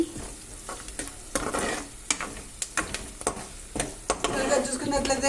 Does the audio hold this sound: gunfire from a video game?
no